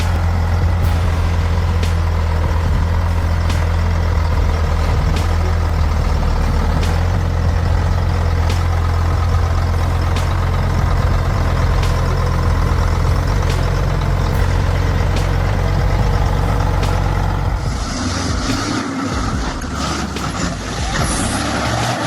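A heavy truck engine drones steadily at close range with a deep, constant rumble, while faint regular ticks sound over it before the tone shifts near the end.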